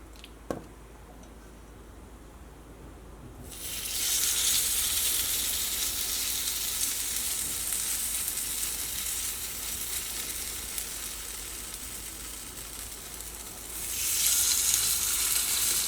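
Batter made from leftover rice is poured into the oiled cups of an unniyappam pan, bursting into a loud, steady hiss of frying oil that eases slightly and then swells again near the end. Quiet pan noise comes before it, with no talking.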